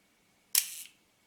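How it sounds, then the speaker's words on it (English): A Leica IIIf rangefinder camera, under repair for its shutter curtain, fires one crisp shutter click that rings briefly before fading, alone in a quiet room. "click and the shutter is open."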